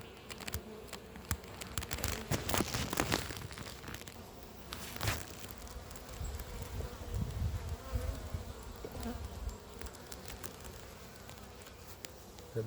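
Bees buzzing around a beehive, a continuous close hum of many insects with scattered louder passes near the microphone and some crinkling handling noise, no talk.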